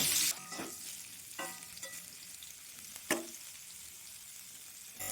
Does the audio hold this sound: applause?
no